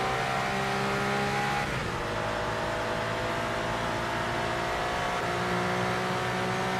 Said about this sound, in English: God damn, that Corvette's flying!